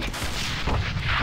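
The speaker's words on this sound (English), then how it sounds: "I missed so many shots." Gunfire in the shooter game A.V.A. fills the short burst, dense and steady at close range, with no talking over it.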